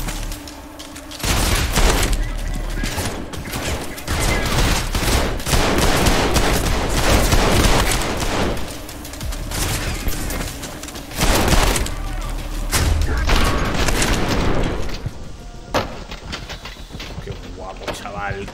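Automatic gunfire from the first-person shooter Trepang2 rattles in dense, loud bursts with sharp cracks and short pauses, while someone talks over the game action.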